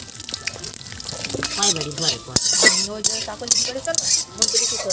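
Bay leaf, cumin and dried red chillies frying in oil for Bengali aloo dum, with scraping and stirring clatter of a utensil against the pan over a steady hiss, close and moderately loud, with a voice briefly audible.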